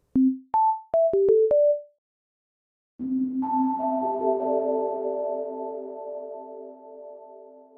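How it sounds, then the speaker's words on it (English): A few short notes from a simple sine-wave synth patch with an attack play dry in a quick sequence, then the same kind of tones ring out bathed in a long, shimmering plate reverb tail. "We use the default operator patch as our source signal since it's a simple sine wave with an attack."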